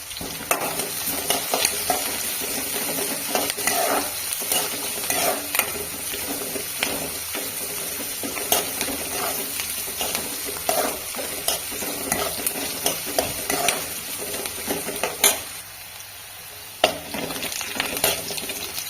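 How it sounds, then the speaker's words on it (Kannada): Onions with curry leaves frying in a pan for a village-style country chicken roast, a continuous close sizzle with frequent spatula scrapes and clinks, briefly dropping quieter near the end, without speech. "ಈರುಳ್ಳಿ ಎಲ್ಲ ಚೆನ್ನಾಗಿ ಫ್ರೈ ಆಗಿದೆ"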